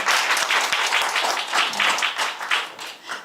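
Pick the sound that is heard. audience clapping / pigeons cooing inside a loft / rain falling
audience clapping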